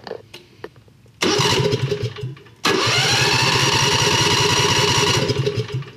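A 670cc engine cranks, then catches and runs loudly for about a second, cuts out briefly, and fires up again into a steady, rhythmic, close-up idle that holds to the end.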